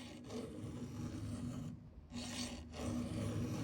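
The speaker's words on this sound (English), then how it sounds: "I filed in one way and now I'm filing down the other way" Hand file rasping across a square-ground chainsaw chain in repeated strokes, a gritty scraping rhythm that pauses briefly midway, close and fairly quiet with no speech.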